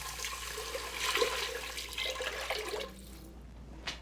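Water, five cups, pours steadily into a pot of mung bean soup with herbs and spices, a close rushing splash for nearly three seconds that cuts off into near quiet with a small clink.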